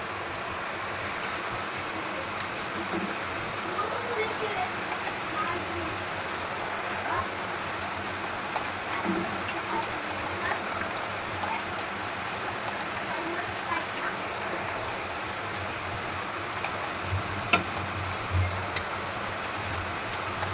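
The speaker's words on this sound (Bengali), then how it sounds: "আমার পানি ফুটে উঠেছে।" Water at a rolling boil in a cooking pot, ready for momos, gives a steady broadband bubbling hiss with small pops, continuous and fairly close for the whole stretch, with no clear speech over it.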